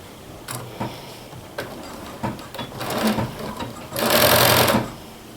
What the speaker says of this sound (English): I'm going to sew a 5/8 inch seam into this one